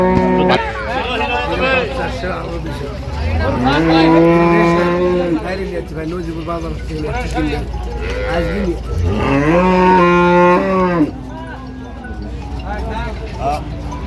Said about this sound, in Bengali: কি গরু ভাই এটা মুন্ডি গরু